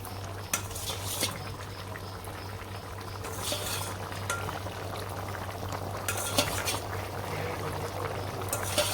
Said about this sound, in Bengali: বলক এসে পড়ছে।